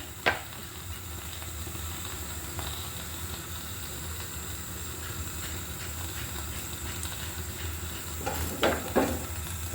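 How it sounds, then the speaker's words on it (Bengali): Dried fish marinated with turmeric and chilli powder fries in oil, giving a steady low sizzle with occasional clinks and scrapes of a utensil, a few louder knocks near the end, and no speech. "আমি শুটকিগুলো ভুনে নিব।"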